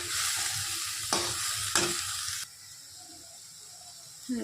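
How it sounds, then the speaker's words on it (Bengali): Spinach sautéing in a pan with cumin and chili powder gives a loud hissing sizzle broken by a few stirring scrapes, then drops to a quieter low simmer for the remaining seconds. "এখন ভালো করে কষিয়ে নিতে হবে।"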